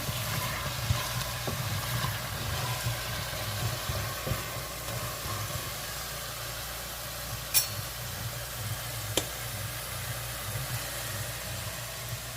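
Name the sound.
stirring Cuban oregano and culantro into sizzling shrimp stew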